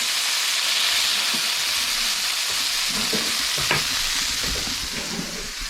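Crayfish fry in a pan with a loud, steady broadband sizzle, and a few light clicks and pops rise over the constant hiss.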